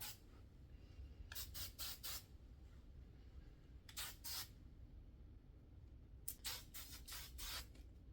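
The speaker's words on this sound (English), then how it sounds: "Let me do a little bit of hairspray." Hairspray hissing from an aerosol can onto styled hair in short bursts: one, then a pair, then a longer run of several quick sprays, each a bright close hiss over a low background rumble.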